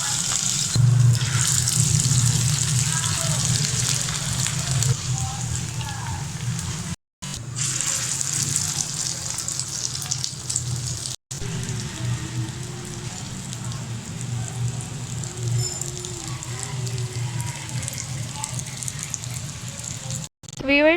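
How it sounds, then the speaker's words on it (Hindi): Beef chapli kebabs frying in oil in a pan, a steady close sizzle and crackle like light rain that runs throughout with a few brief cuts, while someone talks over it. "अब मैं इनको फ्राई करने लगी हूँ।"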